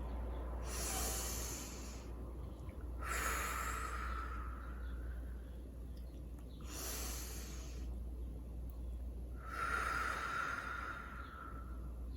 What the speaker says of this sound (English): Let's take 3 deep breaths together.